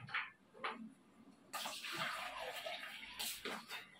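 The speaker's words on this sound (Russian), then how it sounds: "Наливаю воду." Clean water poured into a container for soaking a plant's roots before transplanting, a gushing splash that starts midway and runs steadily, close and fairly loud, after a few brief softer sounds.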